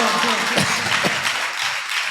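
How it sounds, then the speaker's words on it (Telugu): A church congregation at Sunday worship claps loudly together, a dense wash of applause mixed with voices that holds steady throughout. "చప్పట్లు కొట్టి గట్టిగా."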